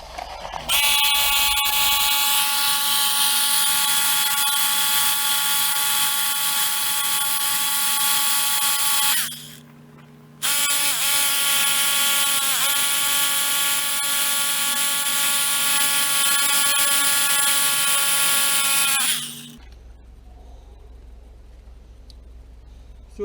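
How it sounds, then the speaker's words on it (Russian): A loud, steady high-pitched whine of a power drill boring into stone, running for about nine seconds, a short pause, then another long run. "Сверлим дырки."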